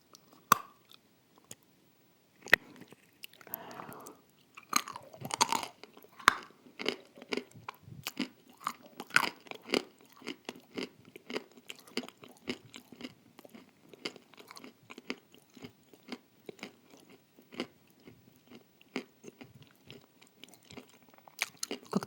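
Someone bites and chews a Ural cake with cream close to the microphone, giving a long run of quick, faint crunches and wet chewing clicks in an irregular rhythm.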